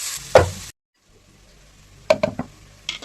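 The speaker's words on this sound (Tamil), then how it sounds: "இப்போ வெங்காயம் போட்டுக்கலாம்" Onions going into hot oil in a pan for biryani masala: a sharp burst of sizzle and clatter, a brief hush, then a few scraping stirs and crackles, close by.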